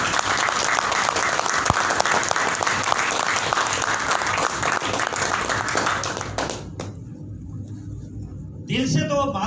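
Applause from a seated audience at an indoor training session, dense steady clapping that fades out after several seconds, leaving a quieter room before a voice starts speaking close by.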